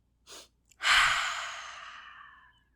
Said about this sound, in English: 3 quick inhales or sniffs through the nose and a long exhale out through the mouth